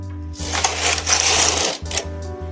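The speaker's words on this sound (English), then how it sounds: "Push the carriage to knit a row" Carriage of an SK280 knitting machine pushed across the needle bed to knit a jacquard row, a loud close rushing clatter lasting over a second, followed by shorter clicks, over a low steady hum.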